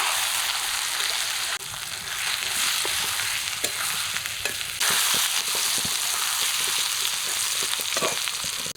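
Ginger paste with turmeric and a little chili powder frying in oil for a thin pabda fish curry, a steady bright sizzle that crackles continuously and closely for the whole stretch, with faint stirring and no voices.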